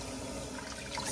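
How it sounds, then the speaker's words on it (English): Tap water runs steadily from a kitchen faucet to flush out the remaining hot water before rinsing, a dense, continuous close-up rush with no talk. "Let it run a little bit to get the remaining hot water out"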